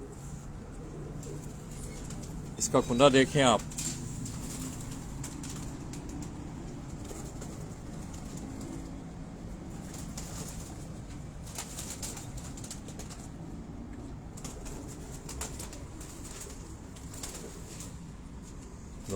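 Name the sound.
Salara pigeons cooing and flapping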